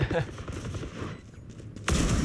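Rapid gunfire in a Valorant esports match, a rattling burst of shots at the start and scattered gunshots through a busy game mix, ending in a loud close shot.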